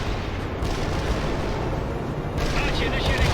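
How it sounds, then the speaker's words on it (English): Apache helicopter attack-run gunfire in the World in Conflict video game, a dense continuous roar of rapid shots and rumbling blasts that stays loud and unbroken throughout, with radio-style voice chatter underneath. "Apache initiating flyby attack."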